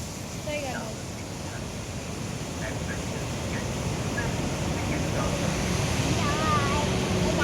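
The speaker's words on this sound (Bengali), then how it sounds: "দেখো এই যে ওয়াটারফলস" Waterfall at Rewa Eco Park in Madhya Pradesh, heard from beneath a bridge as a broad, steady rushing roar that grows slightly louder, with someone talking faintly over it and birds chirping in the background.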